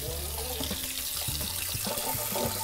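Tap water running into a sink while an enameled cast iron skillet is washed, a steady close stream with gurgling and splashing changes as the pan is moved under it, with no voices.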